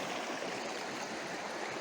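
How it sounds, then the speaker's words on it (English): Mountain brook in the Green Mountains, once a tiny stream, flowing steadily with a dense, continuous rush and gurgle of water close by, no voices. "this brook used to be a tiny little stream that ran down through the mountains here"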